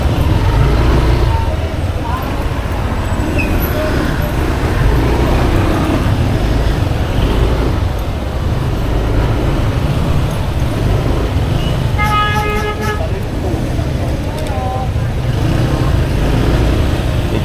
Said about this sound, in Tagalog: Kaya medyo traffic dito.